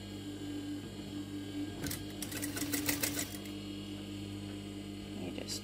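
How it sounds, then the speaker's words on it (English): A sewing machine fitted with a topstitch foot runs a seam through upholstery fabric in one short burst of rapid stitching mid-clip, set against a steady low electrical hum. "You just gently sew along here."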